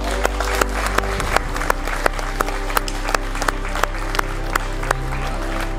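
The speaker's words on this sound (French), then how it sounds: "On peut l'applaudir." An audience at a women's self-defence initiation event applauds, sharp, spaced claps ringing out at an even pace over a steady low hum.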